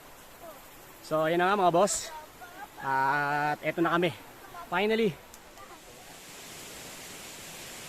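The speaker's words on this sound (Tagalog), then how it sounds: "naririnig na natin yung pagaspas ng ng tubig mga boss" Steady rushing water from the Talon Lukab Falls waterfall in Bulacan forms a continuous broadband hiss. It runs beneath someone speaking intermittently and continues alone toward the end.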